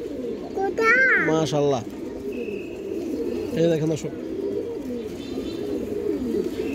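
A female pigeon and others coo close by in soft repeated low murmurs, with someone talking over them throughout.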